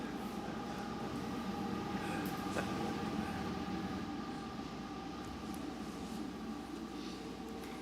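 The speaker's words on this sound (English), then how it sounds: "train going by" A train rolls past during a city planning commission meeting in Mount Shasta, a steady broad rumble and rattle of rail cars holding evenly for several seconds, faint and distant, with little talk.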